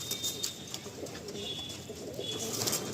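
Pigeons in a loft beside Khardah station coo softly and steadily, with some faint chirps among the low murmuring and no voices.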